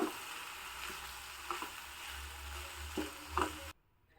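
A spoon scrapes and stirs methi, potato and tomato rice in a pan, giving soft intermittent knocks and scrapes over a low steady sizzle, ending abruptly in near silence.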